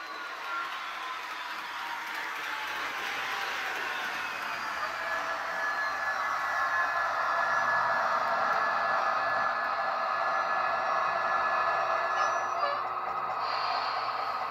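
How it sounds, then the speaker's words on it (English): Rapido F40PH2D model locomotive with ESU LokSound decoder, a steady high brake squeal blended with a hissing air release, continuous and moderately loud throughout. "Hear the brake squeal and the hiss"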